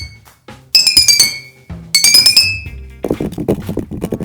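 A glass bottle partly filled with water rings with bright clinking tones in two separate bursts, each struck several times in quick succession, then lower, duller knocks follow; close and fairly loud with no talk.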